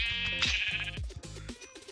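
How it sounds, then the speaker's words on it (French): Sheep bleating in Minecraft Bedrock Edition on mobile in hardcore survival mode, a couple of close, loud wavering bleats with game noises, no speech. "on a trouvé notre dernier mouton"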